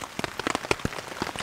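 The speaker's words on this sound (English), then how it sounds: "It is pouring rain. And it's super windy out." Heavy rain pours down on a campsite in strong wind, a dense steady hiss broken by sharp close spatters and drips striking a surface, with no talking.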